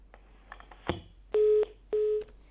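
Telephone line tones during a failed call-in to a Haryana TV news broadcast: a soft click, then two steady, loud electronic beeps of about a third of a second each, separated by a short gap, with no talk.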